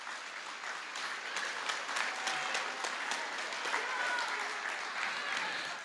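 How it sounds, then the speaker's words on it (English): An audience at an elementary school spring concert gives a sustained round of applause, dense steady clapping from a large crowd that holds evenly for several seconds. "so let's give them a round of applause"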